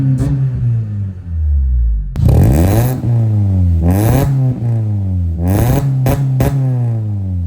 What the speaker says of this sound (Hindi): अब आप लोगों को इस गाड़ी की आवाज चेक करवाता हूँ।